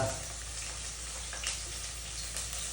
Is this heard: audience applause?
no